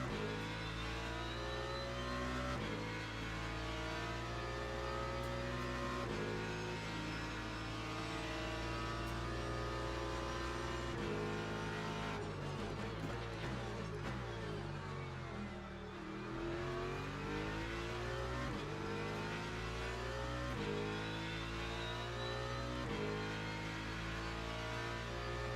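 A BMW race car engine in Le Mans Ultimate drones continuously, rising and falling in pitch as the car accelerates out of corners and shifts gears, steady and loud throughout.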